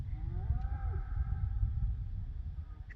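A herd of cows bellows outdoors in open country, drawn-out lowing calls rising and falling over a steady low rumble of wind or ambient noise, several animals overlapping at moderate distance.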